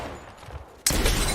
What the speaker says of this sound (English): I hit her with a sniper shot.